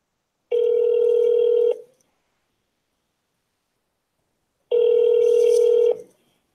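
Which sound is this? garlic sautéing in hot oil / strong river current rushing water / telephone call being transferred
telephone call being transferred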